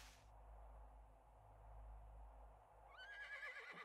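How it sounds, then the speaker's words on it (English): A deer in the video game 7 Days to Die lets out a horse-like neigh, a faint, quavering whinny near the end of the clip over a quiet low background hum. "Did the deer just neigh?"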